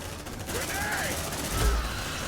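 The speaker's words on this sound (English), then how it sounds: "Suppressive fire! Light him up!" Bursts of suppressive gunfire in Aliens: Dark Descent, dense overlapping shots heard fairly faint in the background beneath shouted voices, with a low thump near the end.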